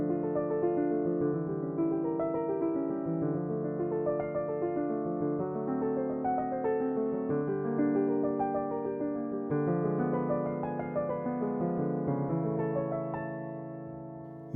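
Solo piano plays arpeggiated chords from Bach's Chromatic Fantasia BWV 903, a continuous, full-toned stream of broken chords with a flexible rhythm that swells and eases, close and moderately loud, then rings into a fading tail.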